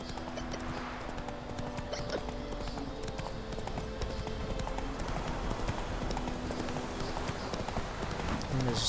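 Roach, a horse in a video game, gallops with steady rapid hoofbeats close by through the whole stretch, set over game ambience and music, with a voice talking briefly.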